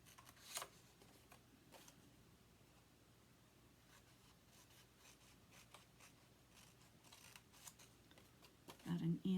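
Scissors snip through folded paper for a Christmas craft, with soft, intermittent cuts and rustling at close range, quiet overall, ending with a louder crinkle.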